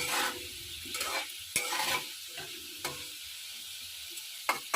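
Potatoes frying in oil with a little turmeric while being stirred, giving a steady close sizzle broken by a few sharp scraping knocks of the spoon against the pan.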